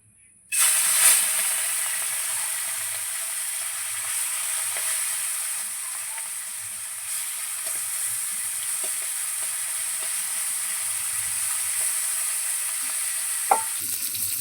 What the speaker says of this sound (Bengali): এবার চিংড়ি মাছগুলো তেলের মধ্যে দিয়ে দিচ্ছি